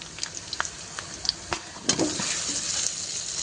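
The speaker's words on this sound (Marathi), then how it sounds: "कांदा छान परतून झालेला आहे टमॅटो घालून घेऊया" Onion and tomato sauté in a pan for dhaba-style dal tadka, a steady oily sizzle with scattered spatula clicks that swells into a louder, denser hiss partway through.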